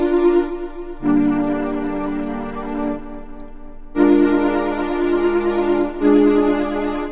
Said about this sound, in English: Not only can you play keys, you can play chords.